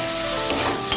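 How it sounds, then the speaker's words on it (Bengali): Soaked spice paste frying in hot oil for taro stolons with dried shrimp, stirred in the pan: a steady close sizzle with a couple of brief scraping strokes near the end, no talk. "আমি যে মশলাটাকে ভিজিয়ে রেখেছিলাম সেটাকেও দিয়ে দিলাম তারপর আমি এখন ভালো করে নাড়াচাড়া করব"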